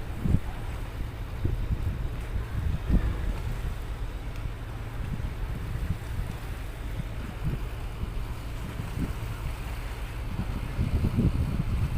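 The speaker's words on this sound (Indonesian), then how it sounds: "Ini dia kapal cepatnya." Ekspres Bahari fast ferry at Sabang harbour heading for Banda Aceh, its engines giving a steady low rumble with wind noise buffeting the microphone and occasional thumps, moderately quiet throughout.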